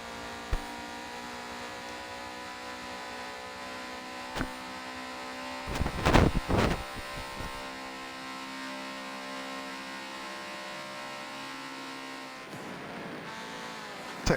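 A race car engine drones steadily in a racing video game at Daytona, a constant buzzing whine with strong harmonic tones, broken by a brief burst of harsh rumbling around the middle and a few sharp clicks.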